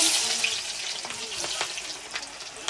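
Meat frying in an unseasoned wok as onions are added, a strong broadband sizzle starting loud and easing into a steadier crackle with scattered pops and stirring scrapes, close by with no talk.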